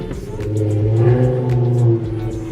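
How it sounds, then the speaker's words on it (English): Cars drive along a street in Paris, a loud, close engine roar swelling and revving steadily for a couple of seconds before easing off slightly. "Why do the cars gotta be so loud?"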